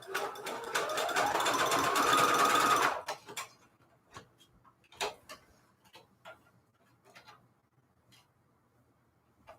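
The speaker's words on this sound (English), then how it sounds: "I'm going to sew down so that it turns into one piece" Sewing machine stitching across overlapped fabric pieces with lace trim: a steady close whirring run for about three seconds, then stops, followed by scattered clicks and taps of handling the machine and cloth, no talking.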